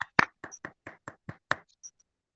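A small group clapping for a co-host partner at a meeting, about eight short sharp claps in an uneven rhythm, close and fairly quiet, fading out after a second and a half.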